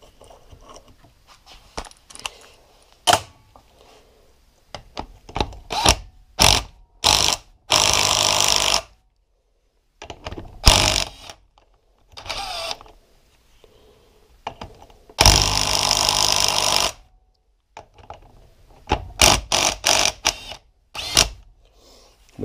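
Ratchet wrench working the flywheel nut on a 2015 Yamaha YZ250 two-stroke dirt bike engine during assembly, heard as scattered short clicks and several sustained bursts of rapid ratcheting, close up with no talking.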